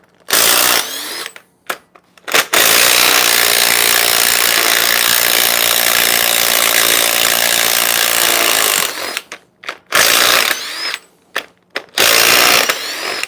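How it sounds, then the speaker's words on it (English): An electric impact gun removes head bolts from an LS3 engine, giving a loud, sustained buzzing run of about six seconds with short bursts before and after it. "That's why I'm going with the electric gun"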